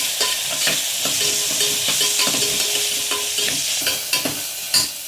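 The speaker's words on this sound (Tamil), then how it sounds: "வெங்காயம் வதங்குறப்ப கொஞ்சம் உப்பு சேர்த்து வெங்காயம் சீக்கிரம் வதங்கிடும்." Onions with salt sautéing in a pan beside curry leaves, a loud continuous sizzle under steady, close stirring and scraping strokes, with no voice.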